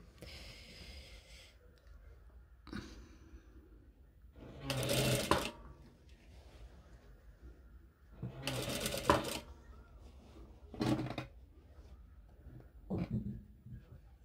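Sewing machine stitching the assembly seam of a heavy jilbab cape, sounding in three short loud bursts of rapid mechanical whirring separated by quieter handling noise.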